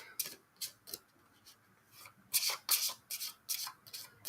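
Soft, crisp riffling of tarot cards being shuffled in repeated short bursts, close and quiet, with no voices.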